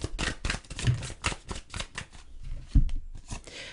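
Tarot cards riffle and slap together in quick, close shuffling bursts, ending with a sharp tap as a card is drawn and set down.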